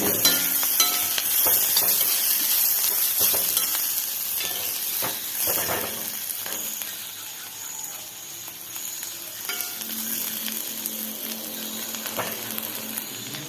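Mezhukkupuratti, a Kerala vegetable stir-fry, sizzles in a hot pan with a steady, loud frying hiss, softening briefly midway, with occasional faint clinks.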